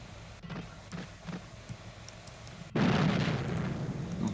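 A tank explodes in the video game Battlefield 1942. A few small pops and thuds lead into a sudden, loud blast that stays as a dense, roaring rumble to the end.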